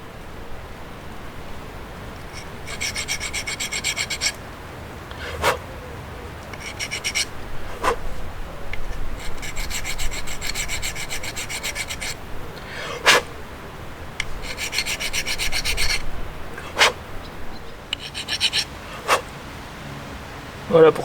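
A file rasps in bursts across a motorcycle part, cutting a chamfer all the way around the edge, with repeated short strokes separated by pauses and sharp clicks, close and fairly loud.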